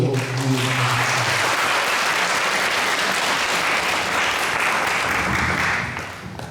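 Church congregation applauding as an elder steps up to give an address at a Full Gospel church founding service, steady dense clapping that fills the room throughout and tapers slightly at the end.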